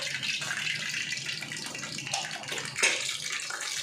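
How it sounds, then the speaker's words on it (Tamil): Mustard seeds sputter and crackle in hot cooking oil, a steady close hiss with scattered sharp pops, one brief louder burst near the end, and no talking. "நல்லா சூடாகிடுச்சு இப்போ நம்ம கடுகு சேர்த்துக்கலாம்"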